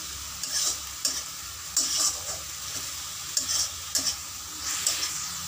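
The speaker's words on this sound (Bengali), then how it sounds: "ধনে পাতা বাটা দিয়ে কষে নেব" Coriander leaf paste with garlic and chili is stirred and cooked down in a pan. Repeated scraping strokes of the spoon break through a soft, steady sizzle, with no talking.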